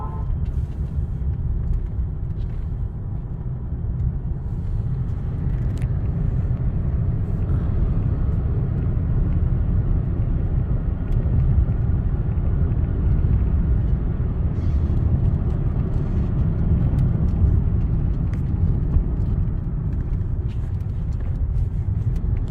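Cadillac DTS cruising on a scenic road, a steady low rumble of engine and tire noise filling the cabin, no talk.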